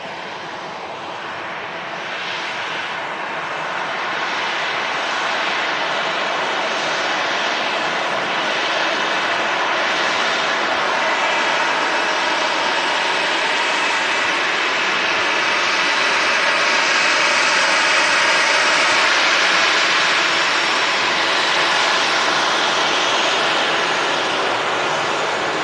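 A KLM airliner in SkyTeam special livery roars by at Manchester Airport, a loud, sustained jet engine rumble that builds steadily, peaks around the middle and holds strong throughout, with no voices.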